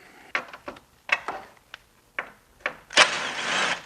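A ratchet or driver works T30 torx screws loose from a MK7 GTI radiator support, giving a few sharp clicks and ticks followed by a brief whirring buzz, close and clear with no voices.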